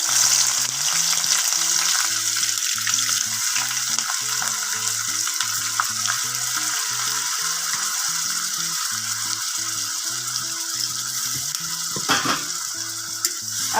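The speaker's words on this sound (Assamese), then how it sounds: "মই 5 মিনিটমান পিঁয়াজখিনি ভালকৈ ভাজি ল'ম।" Chopped onions frying in a pan for chicken curry, with a steady sizzle throughout, occasional stirring scrapes, and a brief clatter near the end. No talking.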